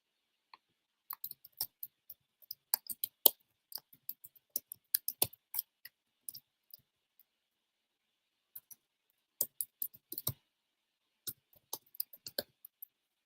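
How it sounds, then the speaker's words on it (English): Sparse bursts of light clicking keystrokes on a computer keyboard, quiet and close, in short irregular flurries separated by pauses, with no voices. "I'm going to type it."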